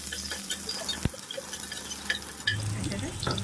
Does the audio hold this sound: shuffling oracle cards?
no